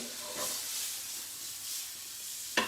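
Vegetables with red bell pepper cooking in a hot pan give a steady, soft hiss and sizzle that holds throughout, closing with a brief sharper burst.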